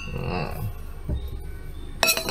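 A drinking glass clinks once as it is set down, a sharp bright chink at the end following low murmuring and rustling on an island trip.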